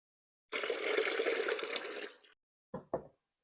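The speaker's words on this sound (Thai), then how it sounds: "ล้างจนน้ำใสอย่างเงี้ยค่ะ" Rice being rinsed in water, a steady rushing pour and swish for about two seconds, then two short splashes after a pause, close and fairly loud with no talking.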